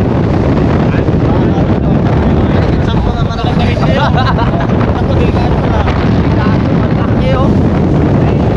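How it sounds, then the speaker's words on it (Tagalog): Strong wind roars and buffets the microphone constantly near a mountain, a loud rushing blast with voices faintly audible underneath. "Lakas ng hangin dito, doon naharangan ng bundok eh."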